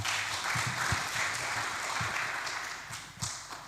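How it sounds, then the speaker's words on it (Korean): A church congregation applauds its worship team, a full round of many hands clapping together, loud at first and gradually tapering toward the end. "우리 찬양팀 다 수고하시는데 박수 한번 할까요?"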